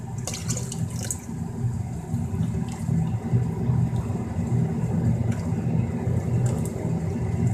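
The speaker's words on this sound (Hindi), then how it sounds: "इसलिए मैं पानी का इजाफा और करूँगी।" Water is poured into a pot of cooking split moong dal, making a continuous splashing rush that stays fairly loud and even for several seconds, with no talking.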